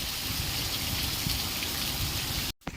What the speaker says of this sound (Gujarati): ભારે વરસાદ આવ્યો